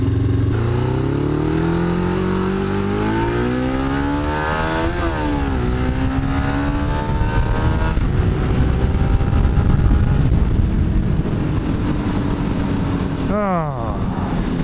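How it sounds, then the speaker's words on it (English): Custom motorcycle engine revving while riding, rising and falling through the gears with wind rumble, loud and close, with a voice talking over it. "go out and ride your custom bike"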